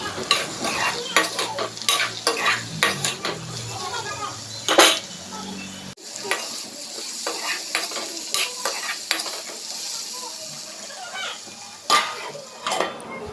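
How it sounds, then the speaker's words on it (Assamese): Spoon scraping and stirring mixed vegetables with salt and turmeric in a pan, Assamese style, with a steady sizzle of frying beneath repeated close clatters of utensil against the pot. "নিমখ আৰু হালধি দিয়াৰ পিছত আকৌ এবাৰ লৰাই ভাজিম"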